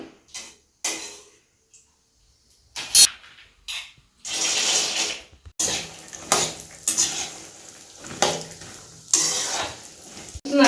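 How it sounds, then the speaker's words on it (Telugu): Peanuts dropped into hot oil in a pan while making a home-made savoury mixture snack, with bursts of sizzling and clattering metal utensil and pan knocks in uneven spurts, close and fairly loud. "పల్లీలు ఫ్రై చేసుకుందాం ఇప్పుడు ఆయిల్ వేడెక్కింది పల్లీలు వేసేస్తున్నాను"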